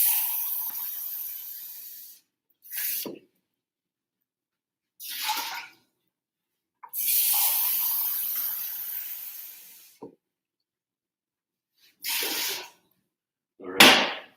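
Water poured into a pot of rice for a stovetop or auto rice cooker pot, heard as several separate bursts of splashing, hissing pour, each a second or two long with silence between, close and fairly quiet.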